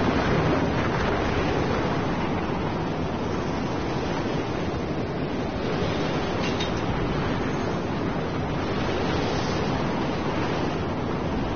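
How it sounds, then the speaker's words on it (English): Strong wind blows in the Mad Max video game, a loud, steady roaring rush that fills the whole stretch without pause and with no voices. "That's really windy and loud."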